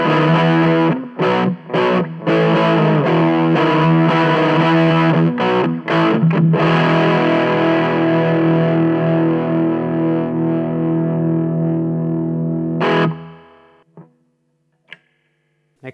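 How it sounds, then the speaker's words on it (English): Musima Lead Star II electric guitar played through its humbucker into an amp with tube drive engaged, a loud distorted sound with choppy strummed stops for about thirteen seconds, then sustaining and cutting off to near silence with faint clicks. "let's engage the little tube drive feature on the amp and see how this sounds with the humbucker"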